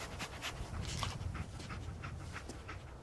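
Dogmeat, the dog companion in the video game Fallout 4, pants steadily and fairly close for about three seconds, a continuous breathy rhythm with faint low background ambience.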